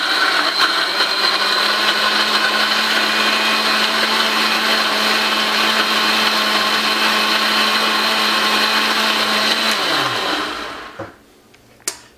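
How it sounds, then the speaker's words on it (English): A blender whirs loudly and steadily, blending coconut chunks with water for coconut milk, a close constant motor drone that winds down and stops near the end, followed by a couple of clunks. "we're gonna turn on the blender"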